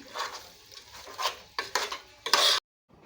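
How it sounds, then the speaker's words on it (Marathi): Chicken pieces being stirred and sautéed in masala in a pan, with repeated scraping, clinking strokes of a spoon against the metal and light sizzling, close and moderately loud, ending in a brief pause. "व्यवस्थित आता परतून घेऊया मसाला व्यवस्थित सगळीकडे लागला पाहिजे"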